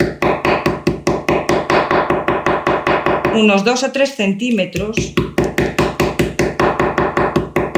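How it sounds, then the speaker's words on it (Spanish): Rapid, steady tapping of a small hammer crushing the cut, obliquely trimmed stems of thorny flowers prepared for drying in glycerine, dozens of close, sharp knocks in a regular rhythm that pause briefly while someone speaks. "Con un martillito machacamos"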